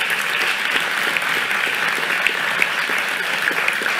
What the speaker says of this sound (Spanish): Un aplauso para ellos y para ellas.